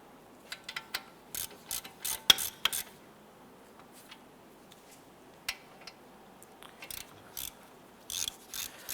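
A ratchet tightens the caliper bracket bolts on a 2007-2012 Nissan Versa during a front wheel bearing and hub job, sharp close clicking bursts in short runs separated by pauses, with faint metallic handling between them.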